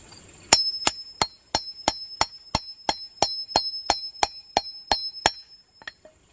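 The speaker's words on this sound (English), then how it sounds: "And you're going to hammer it several times." Metal grommet setter struck by a hammer about fourteen times in a steady rhythm, each blow a sharp, ringing clink with bright overtones, close and loud with no talking, while fitting a grommet into a sewn pet tunnel hammock.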